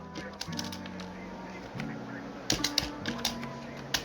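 Keys clatter on a computer keyboard in a quiet room, a short burst of sharp, uneven clicks building to a denser flurry toward the end, close and moderately loud.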